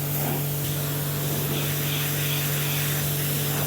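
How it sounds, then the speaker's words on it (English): Water spray rinses down a car after cleaning with Garage Therapy Zero, a steady loud broadband hiss that runs without a break and with no voices. "We'll rinse everything down now"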